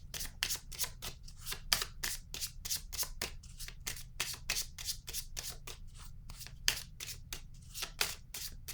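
Tarot cards being shuffled by hand, a quick rhythmic series of crisp riffling slaps, close and steady for the whole stretch.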